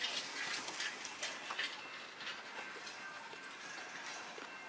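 A moving train rumbles steadily past at a rail crossing, a broad continuous roar with faint rhythmic clatter, heard fairly close with no talking.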